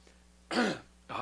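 Two short, quiet coughs from one person, close to the microphone, the second cut off at the end, in an otherwise silent room.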